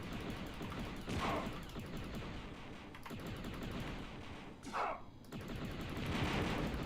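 Enemy gunfire from Jedi Knight: Mysteries of the Sith crackles in rapid bursts over steady game ambience, with a couple of sharper blasts standing out and no one talking.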